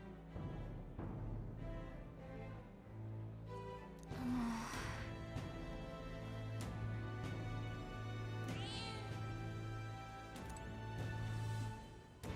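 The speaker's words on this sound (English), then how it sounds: "Pay no attention to the magic cat." A magic cat meows a few times in the fantasy video game Metaphor: ReFantazio, its short high cries rising over a steady music bed and game sounds, fairly close and clear.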